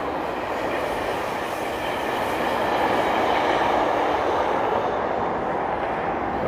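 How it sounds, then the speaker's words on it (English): A GO commuter train passes close by on an evening street in Toronto, a steady loud rumbling roar of wheels and wagons that holds for the whole stretch without a break. "That was a GO train that just whizzed by."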